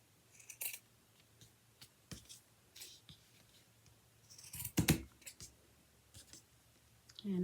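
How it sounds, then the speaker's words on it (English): Scissors snip through a baby sock being split in two for a handmade La Befana doll, a few sharp close cuts spread out with quiet pauses between. "So I'm going to now just split the baby sock in 2. First, I'm just going to cut that off."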